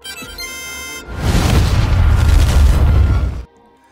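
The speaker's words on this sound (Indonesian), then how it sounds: "Akibat dari ledakan besar itu" A loud, deep explosion in an action film roars out and rumbles for a couple of seconds before cutting off abruptly, following a brief musical passage.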